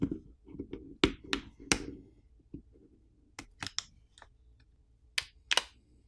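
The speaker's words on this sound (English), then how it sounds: "we need to place a plastic pry tool in between the back housing and the frame of the screen, and then we need to run it along the edges to pop off the catches" A plastic pry tool pops the catches of a Samsung Galaxy A23's plastic back housing: sharp, close clicks and snaps come in small irregular clusters with brief quiet gaps between them.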